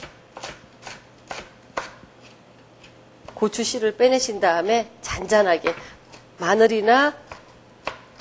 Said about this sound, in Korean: 깨 크기 정도로 썰어주세요